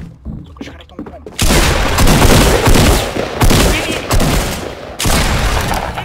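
Fortnite gunfire erupts in sustained bursts of loud, rapid shots after a quieter opening, with brief pauses between volleys and heavy booming impacts.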